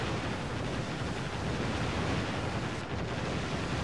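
Ocean waves in the Warship Gunner 2 video game roar as a loud, continuous wash of surf noise, dense and unbroken throughout without any voices.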